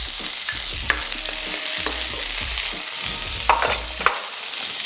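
Onions and garlic fry in hot oil as a loud, continuous hiss, with scraping stirs and a few brighter pops and crackles scattered through it.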